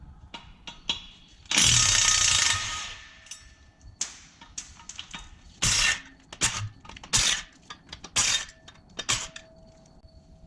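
A power tool loosens the flex plate bolts on a twin-turbo GMC truck build, giving one long loud mechanical burst followed by several shorter rattling bursts and scattered clanks in a close workshop setting.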